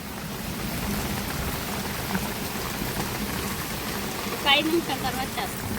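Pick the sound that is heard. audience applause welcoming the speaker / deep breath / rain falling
rain falling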